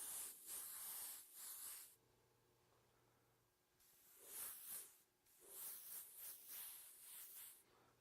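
An airbrush spraying violet paint onto a helmet gives soft hissing bursts, three short blasts at first, then a quiet pause, then several longer sprays close by.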